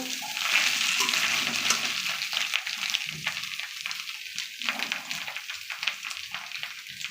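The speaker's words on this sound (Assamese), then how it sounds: "বিলাহী সিজিছে বৰ্তমান অলপ অলপ।" Tomatoes and egg fry in a pan, a close sizzling hiss broken by scraping stirring strokes that grow more intermittent, with no talking.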